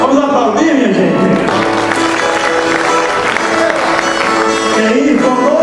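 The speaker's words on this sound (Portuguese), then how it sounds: "Vamos aplaudir, minha gente." A crowd at a repentista festival in Caruaru, Pernambuco, claps and cheers loudly and continuously, mixed with sustained tonal sounds like voices or music throughout.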